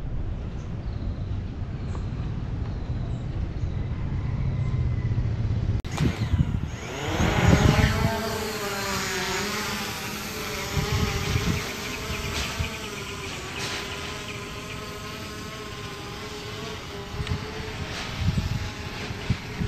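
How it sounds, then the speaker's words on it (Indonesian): A drone lifts off and flies over a toll road construction site and interchange, its rotors building to a steady, close, high-pitched buzzing whine that holds throughout. "saya langsung aja terbang via drone"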